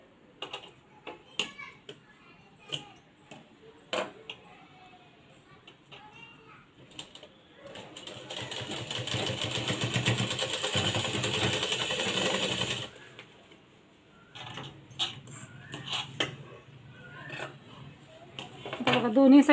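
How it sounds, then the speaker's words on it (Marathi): A sewing machine stitching blouse fabric runs in one continuous whirring burst of several seconds, framed by scattered clicks and handling noises and quiet talk before and after. "इथं आणि इथं शिलाई मारून घ्यायची आहे"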